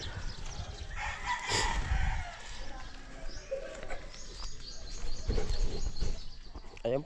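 Backyard chickens, including hens, make loud crowing and clucking calls near and far, with bird chirps scattered through and people talking over them.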